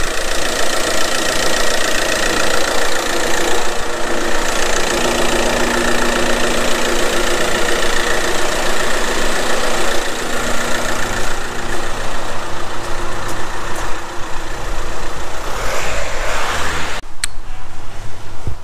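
A car engine idles after a hydrogen carbon-cleaning treatment, a steady loud mechanical rumble with a faint ticking knock throughout, cutting off sharply near the end.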